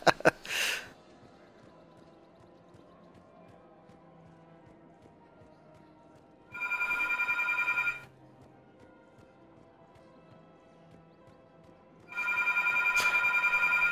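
Telephone ringing in the background, heard as two separate bursts of bright electronic ringing, each lasting about one to two seconds, set apart by long quiet gaps with a faint low hum underneath.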